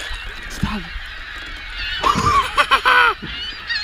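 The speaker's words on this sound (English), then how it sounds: "I almost got pooped on by all these seagulls" Seagulls call over a secluded lake during kayak fishing, a loud cluster of honking cries near the middle of the clip after a single earlier squawk, with people's voices nearby.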